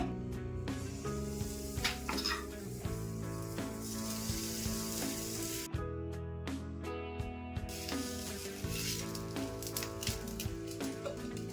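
Dosa batter sizzling and crackling on a hot pan, a steady loud hiss with scattered pops and a few clinks of cookware throughout.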